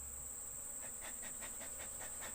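Honey bees humming around an open hive box during a honey harvest, a faint, steady drone with soft pulsing swells over a constant high hiss.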